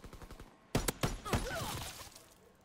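Rifle fire in a WWII shooter video game from an SVT-40 or StG-44: a few quick, sharp shots come close together, then trailing echoes and a faint voice, all fairly quiet and brief.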